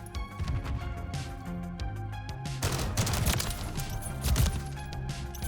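Rapid pistol gunfire in the video game Modern Warfare III, sharp repeated shots in quick bursts mixed with impacts and game effects, fairly close and busy with no speech.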